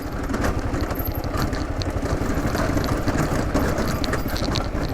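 A Kawasaki KLR650 dual-sport motorcycle heads down a steep off-road hill, its engine a steady low rumble under dense broadband wind and road noise that stays loud and continuous throughout.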